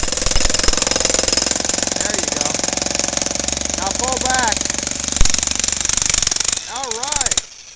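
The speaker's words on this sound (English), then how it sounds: "Jackhammer boy." A jackhammer pounds steadily through patio concrete beside a house, a loud continuous rapid hammering that stops near the end, with a voice giving instructions over it.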